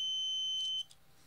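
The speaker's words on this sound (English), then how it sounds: "when it sees the flame, as you can see, the buzzer is on and the light is on." Buzzer on an Arduino flame sensor module sounding a sharp, steady electronic beep tone that holds for most of a second, then cuts off abruptly, leaving near silence.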